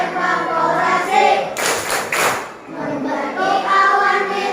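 Rhythmic clapping in a classroom as a teacher leads a water cycle clapping chant, a few sharp claps cutting through continuous spoken chanting by an adult voice.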